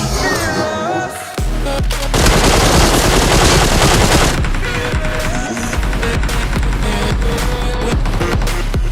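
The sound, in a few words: gunfire in the video game PUBG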